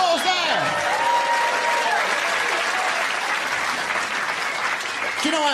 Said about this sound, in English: Give that woman a round of applause